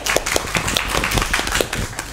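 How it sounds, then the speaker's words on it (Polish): Audience applause at a public debate on a transit hub plan in Bytom, dense irregular clapping up close and fairly loud for a couple of seconds. "brawa się należą"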